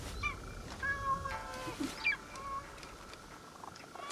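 A small cat in Assassin's Creed Shadows gives a few short, faint meows and chirpy calls over quiet in-game ambience, with no speech.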